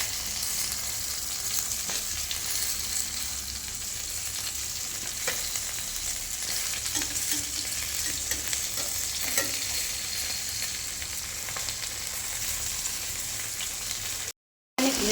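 Rohu fish wrapped in banana leaves fries in a wok with a steady, close sizzle and occasional soft stirring ticks, briefly cutting out near the end.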